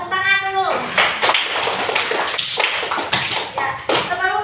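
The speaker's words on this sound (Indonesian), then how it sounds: "Ya, tepuk tangan dulu." Schoolchildren in a classroom clap together in a burst of brisk, uneven applause, with children's voices and chatter mixed in at the start and end.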